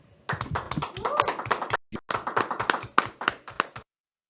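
Scattered applause from a small audience, a few seconds of uneven clapping at close range that stops abruptly.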